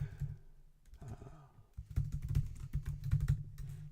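Blog post being typed on a computer keyboard, quick clusters of close key clicks, a brief pause early on, then denser and louder rapid typing to the end.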